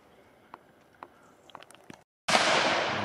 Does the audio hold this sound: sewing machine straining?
no